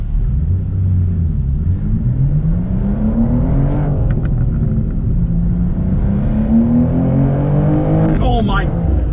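A BMW M2 G87 accelerates hard from inside the cabin, the engine drone climbing steadily in pitch as its turbos spool, with a brief shift and whoosh near the end; loud and continuous.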